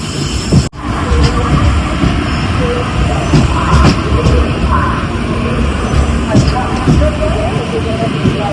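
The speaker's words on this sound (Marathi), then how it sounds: "ट्रेन थांबत नाही संगमेश्वरला आज थांबली आहे" A train rumbling as it stops at Sangameshwar station in Konkan with a steady loud mechanical roar, people talking and a murmur of voices nearby throughout.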